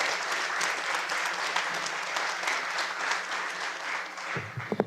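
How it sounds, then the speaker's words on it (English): An audience at a World Refugee Day celebration in Salt Lake City applauds steadily in a dense wash of clapping, heard from within the crowd, which fades near the end as a few louder claps stand out. "I think she deserves a round of applause standing up."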